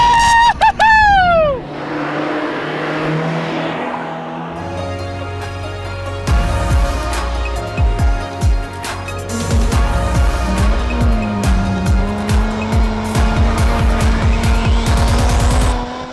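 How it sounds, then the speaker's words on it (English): A 2009 Mazda Miata revs and accelerates hard on canyon roads, engine rising and falling through gear changes, with tire squeal and skidding noises close by. "I am ecstatic to show you guys my new project car, this 2009 Mazda Miata"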